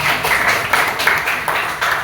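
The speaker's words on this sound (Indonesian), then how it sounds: "tepuk tangan untuk Atta dan Edward" A classroom group applauds two presenters during a teachers' coaching session, a dense burst of many hands clapping close by, steady and fairly loud for about two seconds, with no voices over it.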